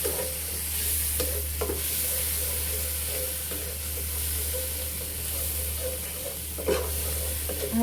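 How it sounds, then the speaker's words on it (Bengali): Leafy greens (shak bhaji) fry in very hot oil in a home kitchen, an even sizzle under a low hum, punctuated by several scraping stirs of the spatula. "এখানে শাক ভাজি করছি।"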